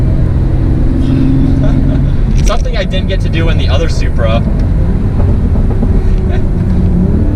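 A 2020 Toyota Supra's engine drones loudly with heavy wind and road noise as it takes a turn at 60 miles an hour, while someone talks over it.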